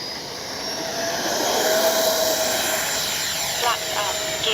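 An FMS Avanti V3 70mm EDF RC jet taking off, its ducted fan whine rising steadily and holding loud and high-pitched as the model accelerates away over open ground.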